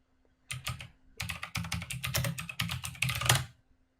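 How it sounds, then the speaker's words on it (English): Fast bursts of clacky keystrokes on a loud mechanical keyboard, close and crisp, in a few uneven runs with brief pauses and no talking. "I've got a mechanical keyboard."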